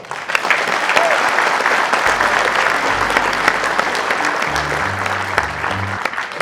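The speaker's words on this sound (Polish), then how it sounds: "Duże brawa!" Broad applause from the audience at the opening of a film directing and film acting festival in Wrocław, steady and full, with low music or hum entering midway beneath the clapping.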